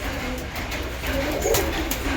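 Pigeons drinking curd-mixed water during hot weather, with steady low cooing and soft bird calls close by, plus a few faint clicks, and no talk.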